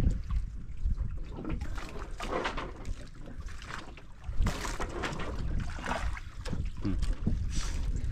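A boat motor drones steadily over water, with wind buffeting the microphone and occasional splashes; no one speaks.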